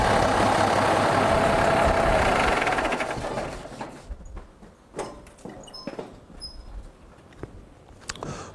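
A car engine under alternator testing roars loudly for about three seconds, then drops back to a much quieter idle broken by scattered clicks and light knocks.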